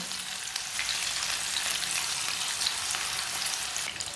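Black chickpea pakoras frying in hot oil give a steady, close, even sizzle with fine crackling throughout and no talking.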